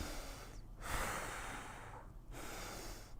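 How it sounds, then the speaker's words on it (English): Deep breaths drawn in and let out through an N95 face mask, long airy rushes separated by brief pauses, close and muffled. "I'm going to do a deep breath."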